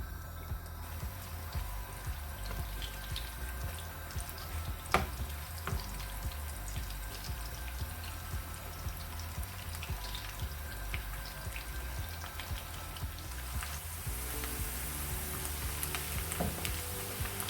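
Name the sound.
onion frying in a pan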